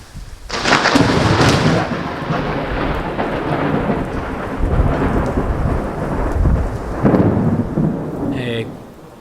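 Steady summer rain pours down with heavy rolling thunder, a loud burst near the start and more rumbles later, the downpour hissing continuously throughout.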